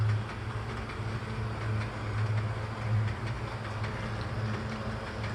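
A model HO-scale NYC MTA subway train, a ten-car set, runs along its track with a steady low motor hum and soft rhythmic clicking of wheels, close by and unbroken, with no voices.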